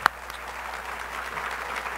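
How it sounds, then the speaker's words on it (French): An audience at a conference's opening plenary claps steadily, a dense, moderately distant wash of applause lasting about two seconds. "vraiment un applaudissement pour tout le monde"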